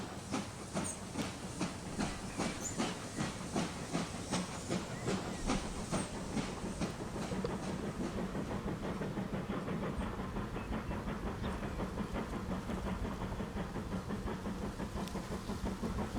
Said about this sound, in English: I honestly don't think that train's ever going to get up to full speed.